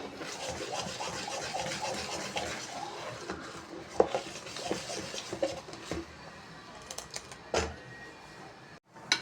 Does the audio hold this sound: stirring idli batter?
yes